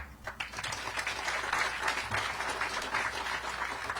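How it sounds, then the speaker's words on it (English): An audience claps in a sustained, even round of applause at the ribbon cutting for a family health and birth center, moderately distant and steady throughout. "I know, y'all getting tired of clapping?"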